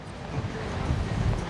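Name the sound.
wind blowing across a sandy beach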